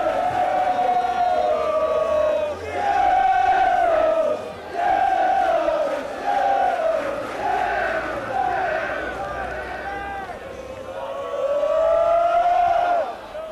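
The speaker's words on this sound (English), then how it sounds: "behind that goal, the Southend supporters are cheering deliriously." Southend football supporters behind the goal roaring and chanting in a stadium, rising and falling in long sustained swells of massed voices, loud and continuous with a commentator talking over them.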